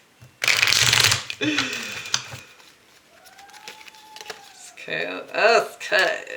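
A deck of tarot cards being shuffled and cut, opening with a loud close riffle burst followed by softer card handling, with a voice speaking toward the end.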